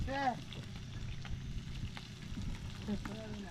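Fish fries in a pan with a faint, steady crackle and sizzle, while people talk briefly over it.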